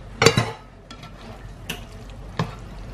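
Pasta is stirred into pesto in a pan, giving a few distinct utensil knocks and scrapes against the pan, spaced out over a quiet, faintly sizzling background.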